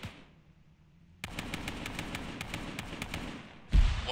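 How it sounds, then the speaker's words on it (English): Rapid gunfire in a military video game starts after a quiet stretch, a steady stream of sharp cracks at moderate distance, ending in a heavier thump. "we got more fire southwest"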